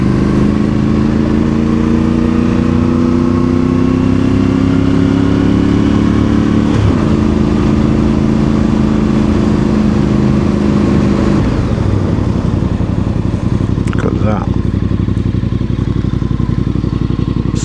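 A Voge DS625X adventure motorcycle climbs a steep mountain road, its engine loud and close as it pulls steadily, with rising and falling revs and a brief gear change partway through.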